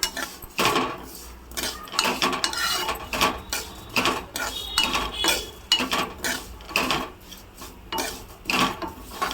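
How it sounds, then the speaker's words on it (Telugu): Vermicelli (semiya) is fried in ghee in a pan and stirred, with repeated close scraping and rasping of a utensil against metal in an uneven rhythm, loud and without talk. "ఇదిగో ఇవి సేమియా కూడా వేపుకుంటున్నా నేను"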